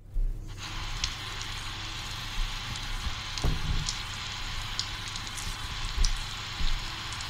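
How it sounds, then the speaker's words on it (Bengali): Steady rain falls outside at night, a soft, even patter with occasional faint drips and thumps, heard alone at a moderate distance. "বাইরে বৃষ্টির শব্দ"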